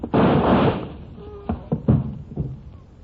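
An old-time radio sound effect of a door being opened and closed: a loud burst of rattling and bumping, followed by several sharp knocks and thuds, with a voice briefly audible.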